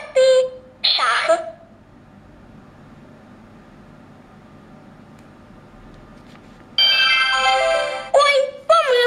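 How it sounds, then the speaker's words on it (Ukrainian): Telephone ringtone in a Ukrainian-language children's alphabet cartoon game, sounding as two loud bursts of bright ringing at the start and again near the end, separated by a quiet stretch. "Давай шукати телефон."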